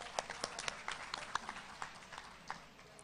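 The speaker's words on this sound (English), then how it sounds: "Please give a huge round of applause to both of our session chairs." Scattered, fairly quiet applause from a conference audience for the technical session chairs, with sparse individual claps standing out against a soft background for about three seconds.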